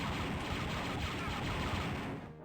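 Rapid, continuous volleys of blaster fire from the Star Wars: Dark Forces video game, a dense unbroken barrage at steady loudness that fades slightly at the very end.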